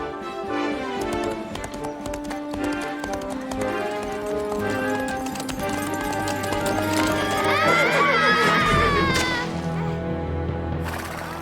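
A horse clip-clops and gallops off amid a whinny, hoofbeats rhythmic under loud orchestral music, with voices briefly present.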